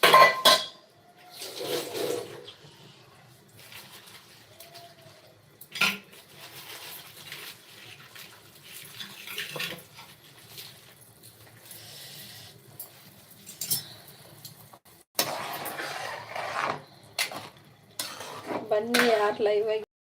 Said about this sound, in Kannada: ತುಪ್ಪದ ಪಾತ್ರೆ ಪಾ ತೊಳೆಯಕ್ಕೆ ಹಾಕ್ತೀನಿ